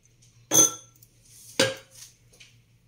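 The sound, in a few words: stirring and mixing a dessert in a bowl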